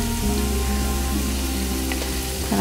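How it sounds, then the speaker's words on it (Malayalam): Onions frying and browning in a pan for Afghan rice pilaf, a steady close sizzle with a low hum beneath it, continuous with no talking. "സവാള ഇങ്ങനെ മൂത്ത് വരുന്നേ ഉള്ളൂ."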